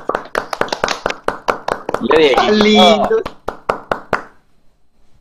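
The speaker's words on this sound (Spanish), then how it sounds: "la mejor energía y este aplauso para ti con todo nuestro cariño" A small group applauding Diego Garzón at a home gathering, with quick close claps and cheers, a voice speaking and exclaiming in the middle, and the clapping fading out near the end.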